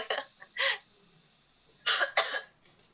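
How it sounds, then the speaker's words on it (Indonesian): Several sharp coughs: a pair of quick ones, a short quiet gap, then two more close together, near and clear with no talking. "lagi batuk mama"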